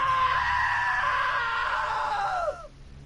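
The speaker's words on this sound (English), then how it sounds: "Now that was a great scream." A single long, loud scream in the video game What Remains of Edith Finch holds for about two and a half seconds, then breaks off sharply into near quiet.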